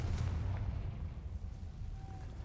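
A Confringo fire spell blast in the video game Hogwarts Legacy, a low muffled boom-like rumble that lingers for a couple of seconds, heavy in the bass and fairly quiet, with a faint tone near the end.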